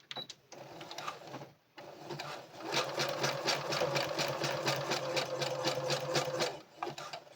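A sewing machine runs a zigzag back stitch, with short bursts of rapid mechanical clatter, a pause, then a sustained steady run with a tight, regular needle rhythm at close range.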